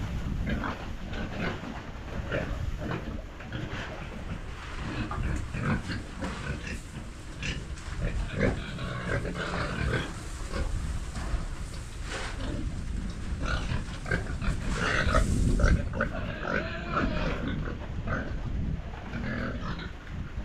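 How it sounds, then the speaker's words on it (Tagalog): Pet pigs grunt and oink continuously while being fed on a rainy day, several animals close by making a dense, steady chorus of snorts and grunts, with a few faint human voices in the background. "at pinakain na natin yung mga alagang baboy"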